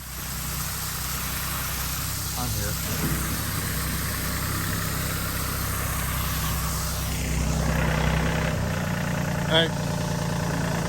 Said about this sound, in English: I'll pull the tractor up.